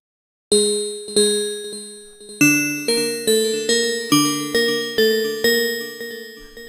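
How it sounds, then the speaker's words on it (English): A bright synth bell lead from the HALion Sonic SE FLUX wavetable synth in Cubase plays a sequence of struck, ringing notes, each decaying quickly before the next, with a clean tonal shimmer and no voices. "So we have this bell sound"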